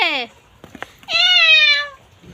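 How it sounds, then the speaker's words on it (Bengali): A cat meows twice up close, a short cry followed by a longer drawn-out one, with faint clicks and rustling between them. "পুষি ম্যাও"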